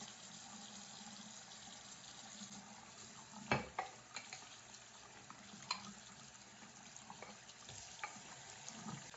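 Water rinsing diamond sharpening plates, a continuous close wash of running water and scrubbing with a few sharper knocks and splashes scattered through, faint overall and without talk.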